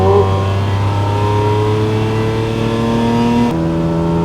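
BMW B58 engine pulling hard on a wet track, a loud, steady rising drone heard from inside the car, then a sharp shift partway through.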